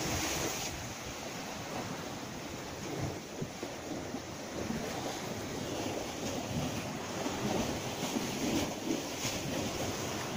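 A continuous broad roar of Mediterranean Sea surf washes steadily, with low rumbles and no voices.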